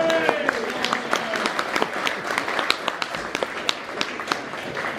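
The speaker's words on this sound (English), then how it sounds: "where's the fucking round of applause?" Crowd applause during a Q&A with a singer at the Hard Rock Cafe in Glasgow, steady dense clapping with sharp individual claps standing out, and voices talking and calling over it throughout.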